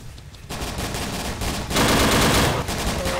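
Rapid 20mm cannon fire from a T-Rex in the Dino D-Day video game, a dense and continuous burst that grows louder and heavier after the first couple of seconds.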